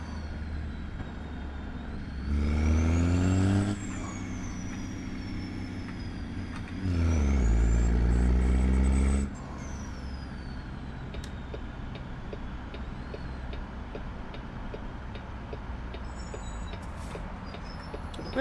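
A Kenworth W900 truck in American Truck Simulator pulls onto the road, its diesel engine rumbling steadily, swelling into two rising revs through the gears before settling back to an even cruising drone.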